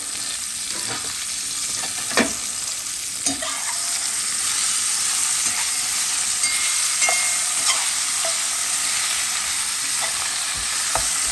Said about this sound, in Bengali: খুব সুন্দর করে ভাজবো